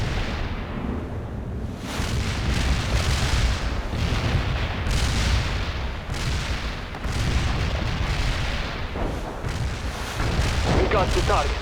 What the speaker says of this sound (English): Artillery strike on our target.